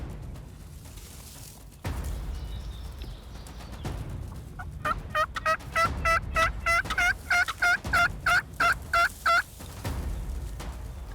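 Wild turkeys gobble out in a wide open crop field, a long rattling run of rapid gobbles repeating in a steady pulsing rhythm, fairly loud and carrying over low wind rumble.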